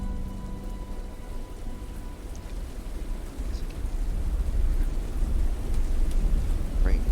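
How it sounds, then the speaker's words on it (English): Light rain falls steadily as a player walks into a town in the game The Dark Egg, a broad continuous patter with low rumble that builds slightly louder toward the end, with no voices. "Light rain begins to pepper your face as you walk into the town."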